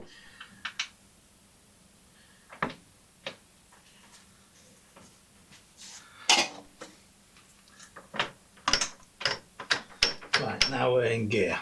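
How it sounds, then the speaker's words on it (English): Norton motorcycle gearbox gears shifted by hand on the bench, giving scattered sharp metallic clicks and ratcheting ticks that come faster and denser toward the end; close and fairly quiet. "Right, now we're in gear."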